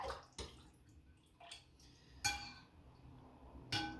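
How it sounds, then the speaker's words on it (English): Yeast is stirred into warm water in a glass bowl, giving a few soft liquid swishes and sharp clinks of a utensil against glass, close and fairly quiet with no talk. "Give that a stir."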